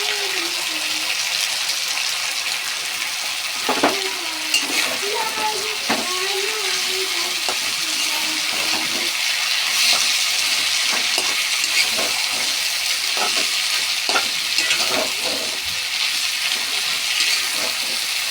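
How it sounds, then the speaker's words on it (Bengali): Chopped onion is stirred and fried in a pan for piluy bhaja, with a continuous sizzle and scattered close spatula knocks and scrapes throughout. "পেঁয়াজটাকে নেড়ে করে ভেজে নেব।"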